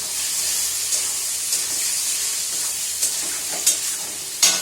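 Food fries in a pan with a constant bright sizzle, broken by a few sharper crackles and stirring clicks, close and fairly loud.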